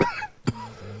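Two bursts of coughing, a sharp rough cough near the middle and a short one at the end, close by with some murmuring around them.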